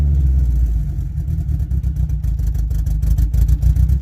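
A boosted Honda Civic engine runs loud and close with a choppy, uneven idle and a steady low rumble that pulses throughout, with no talking over it.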